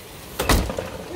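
An indoor door swings open with a short thud and rattle, followed by a brief fading rustle, alone with no voices.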